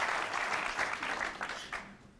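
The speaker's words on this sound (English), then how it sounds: "give an applause for what's looking like being a victory for Earl DRAGO" Applause from the crowd at the 2003 World Pool Masters semi-final, a fairly distant, steady round of clapping that thins and tapers off toward the end.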